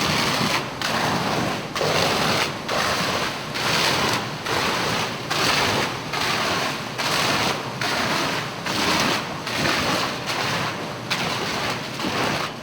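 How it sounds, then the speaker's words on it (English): Fire department hose stream at about 30 psi blasting a fire-rated gypsum sheetrock wall during a fire test, a loud, continuous rushing spray that pulses in regular surges over the whole stretch. "face the exposed side of that assembly towards a fire water hose stream application, the typical fire department hose stream at approximately 30 psi"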